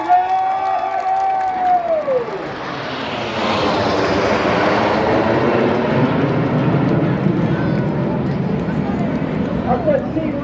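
Red Arrows jets of the 2024 Royal Air Force Aerobatic Team roar over the Blackpool airshow, a swelling broadband jet rush that builds and holds loud, with a faint crowd and a commentator's voice underneath.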